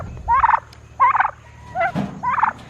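A tom turkey on a homestead gobbles four times in quick succession, each call a loud, close, rattling burst separated by short pauses, with a faint steady hum underneath.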